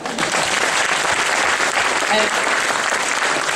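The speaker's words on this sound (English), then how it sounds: "big hand for the last three." An audience applauds at a speaker's talk during the Gründermessen founders' fair in Oslo, producing a loud, dense, continuous wash of clapping from a large crowd that holds steady throughout.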